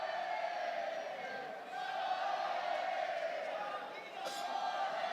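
A large stadium crowd at a Kings World Cup football match, a continuous distant roar of chanting voices that dips briefly twice and carries on steadily.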